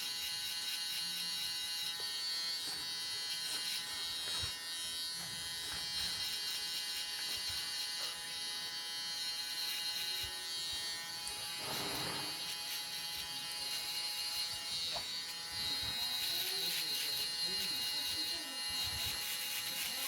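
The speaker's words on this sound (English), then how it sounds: "at the end I'm using the electric shaver" Babyliss electric shaver buzzing steadily and close through a haircut finishing a mid skin fade, a continuous high whine with slight shifts in pitch as it moves over the head, with faint talk underneath.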